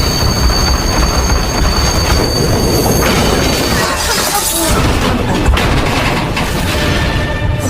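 A train derailing and jolting to a stop: loud, dense rumbling rail noise with squealing wheels and harsh clattering, a crashing burst midway, then continued grinding.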